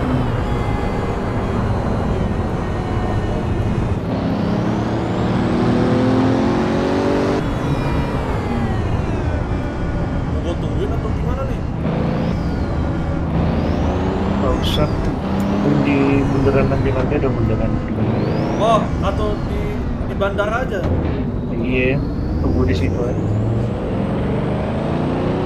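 A Pagani car's engine drones steadily on the Shutoko circuit in a racing game, a loud continuous hum with rising and falling pitch sweeps as it shifts, while someone talks over it throughout.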